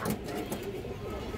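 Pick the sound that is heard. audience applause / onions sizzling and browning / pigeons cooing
pigeons cooing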